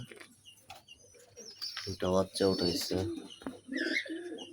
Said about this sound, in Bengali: অনেক জাতের কবুতর আছে আমার কাছে। দেখুন কি সুন্দর সব কবুতরগুলা।